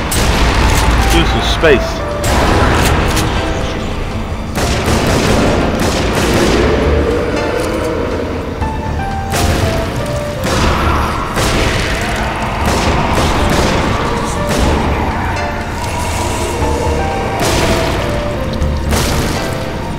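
Loud, booming shotgun blasts from the video game Nazi Zombie Army go off repeatedly over roughly twenty seconds, mixed with chaotic combat noise while a player talks over the action.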